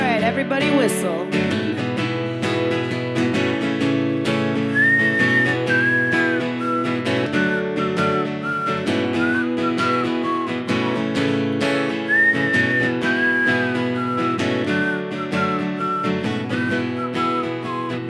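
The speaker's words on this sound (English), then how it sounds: "All right, everybody whistle." A live concert audience whistles a melody along with acoustic band accompaniment in a small venue, the wavering whistled tune rising repeatedly over steady instruments for the whole stretch.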